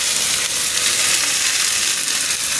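Chili powder stirred into a boiling fish curry in a hot pan, producing a steady, loud, close sizzle and fry hiss with no breaks.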